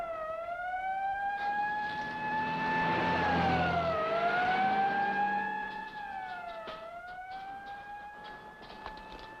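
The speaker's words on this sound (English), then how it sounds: "Sounds more like a police car." A police car siren wails in a long rising and falling tone, loud and steady at first, then dipping and easing slightly as it continues alone for several seconds without any talk.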